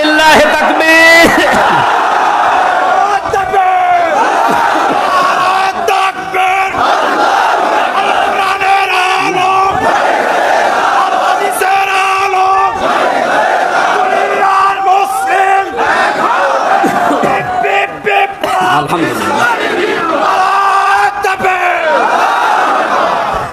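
Large crowd at an Islamic sermon chanting the takbir response in loud, sustained unison, with a leader's voice calling over them throughout.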